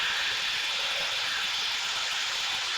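F-18 Super Hornet jet in flight, heard as a steady, loud, broadband roar and hiss that holds constant throughout without a break.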